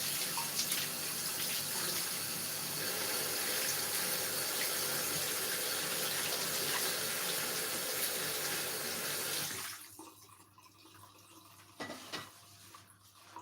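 A kitchen tap runs steadily while fresh basil is rinsed under it for pizza margherita, a constant splashing hiss that cuts off abruptly near the end, leaving quiet handling noises.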